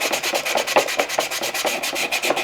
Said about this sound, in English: And then what we do is just give it a slight sanding.